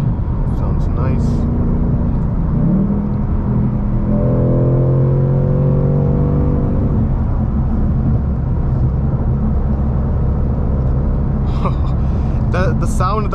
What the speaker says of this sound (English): when you buy this car, when you buy even the GT Premium and you get that active exhaust, it's the kind of car that you just, you want to drive all day just to hear it roar